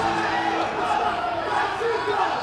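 A dense, steady roar of a large crowd at a karate combat event in Orlando, with voices mixed into the continuous cheering and chatter and no clear peaks.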